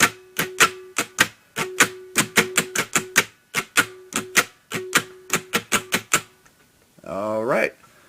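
A guitar plays the full intro rhythm of a song as a fast, choppy run of tightly muted strums, close and loud, before a voice briefly speaks at the end.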